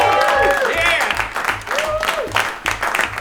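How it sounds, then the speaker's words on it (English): Audience applause at a live comedy and rhyme show, brief steady clapping under a host's voice talking over it, with rhythmic thumping music beneath. "Give yourselves a round of applause"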